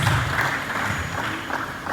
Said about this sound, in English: Please, a round of applause for her, please.